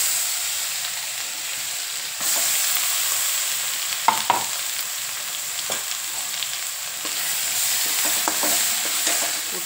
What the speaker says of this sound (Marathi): कुठलीही भाजी करताना महत्त्वाचं असतं हे वाटण परतणं